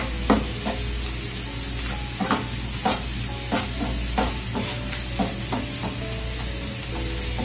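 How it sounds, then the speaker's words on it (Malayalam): Onions sautéed with garam masala sizzle in a pan, with a continuous hiss broken by a regular series of spoon strokes scraping and stirring close by. "ഉള്ളി ഒന്ന് വഴറ്റിയെടുക്കാം."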